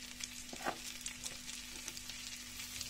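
Shrimp sautéing in a pan over high heat, a quiet, steady sizzle with a few soft scraping stirs and small pops near the start.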